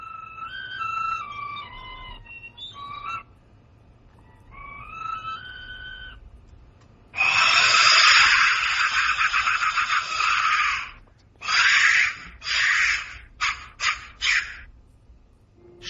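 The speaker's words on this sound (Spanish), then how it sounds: "Sonido percutiendo el interior de uno de estos silbatos intactos de la muerte." An intact Aztec clay death whistle, shaped like a skull, is struck on its interior, giving loud, harsh, noisy bursts: a long sustained blast followed by several shorter clustered bursts, after softer tonal whistling at the start.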